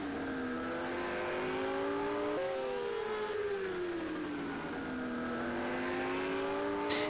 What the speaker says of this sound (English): Just hear the Ferrari not really picking up.